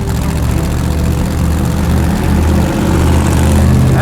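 A Corvette-powered go-kart engine running steadily at 1,800 RPM, giving a loud, close, continuous low droning rumble that holds an even pitch throughout, with no talk over it.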